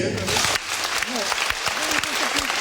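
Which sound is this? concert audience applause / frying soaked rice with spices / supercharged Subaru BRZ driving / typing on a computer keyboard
concert audience applause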